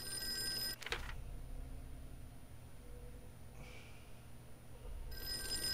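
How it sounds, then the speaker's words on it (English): A telephone rings in the Call of Cthulhu video game, a short ringing burst near the start and another toward the end, over a low ambient hum and faint breathing. "I should answer the phone."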